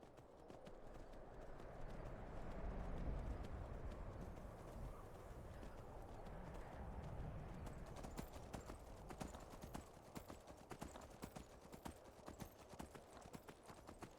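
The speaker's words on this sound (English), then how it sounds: "Skyrim's horses are stout, heavy boy." In the video game Skyrim, a stout, heavy horse walks with steady clip-clop hooves, close and rhythmic over a soft ambient wash, the hoofbeats sharpening toward the end.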